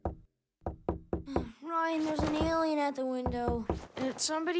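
Several sharp, evenly spaced knocks strike a door in a kids' animated cartoon, then voices and music take over.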